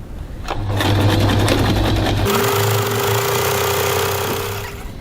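A sewing machine stitches a crossbody bag at a 3.5 stitch length, a loud steady motor whir with rapid needle chatter, pausing briefly midway before running on.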